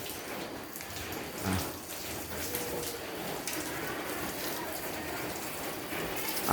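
Rain falls steadily outdoors, a dense, even patter of drops on surfaces with a few louder splashes, with no voices present.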